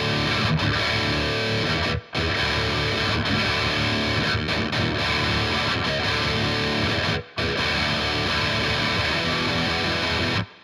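Distorted electric guitar riff from the bridge of a song, a barred chord repeated many times with muted dead notes between strums, loud and continuous apart from two short stops.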